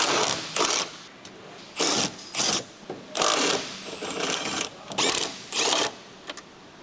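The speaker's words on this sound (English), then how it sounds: "Remove the cover plate using the large electric impact wrench with the large short extension bar and 14mm short socket." A large electric impact wrench with a 14mm socket spins off strut top mount nuts on a Honda CR-V, sounding in repeated loud whirring bursts of about half a second separated by brief pauses.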